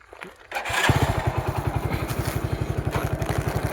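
A motorcycle engine runs close by at a steady, rapid idle, its even thumping pulses loud and continuous after a brief moment of quieter noise at the start, with no talking.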